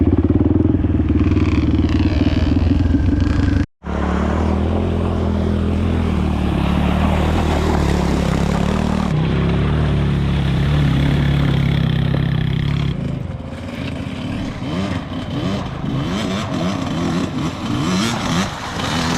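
A group of mini bikes ridden together on a trail by the Deua River, a loud, continuous buzzing engine drone close by that holds steady with shifting pitch, briefly cutting out once, then fading slightly toward the end.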